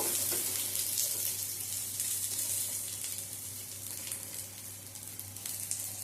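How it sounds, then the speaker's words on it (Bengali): An onion fries lightly in a pan, giving a continuous close hiss and sizzle that stays fairly even throughout, no talking. "পেঁয়াজটা হালকা করে ভেজে নেব।"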